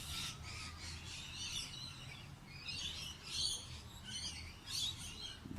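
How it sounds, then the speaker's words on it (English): A baby parrot, an Australian native bird, gives repeated high chirping calls in short bursts, fairly faint against a steady outdoor background hiss, with no one talking. "Baby parrot's definitely a baby parrot"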